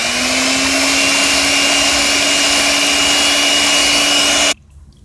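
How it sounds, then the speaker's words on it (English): A blender mixing wax runs with a steady, loud motor whine for several seconds, then cuts off abruptly near the end, leaving faint room noise. "So sorry for the blending noise."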